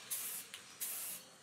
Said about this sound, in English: So I just gave the spear a black undercoat and then placed the mat on top and sprayed silver through the